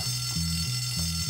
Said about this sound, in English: Oh, the fire alarm.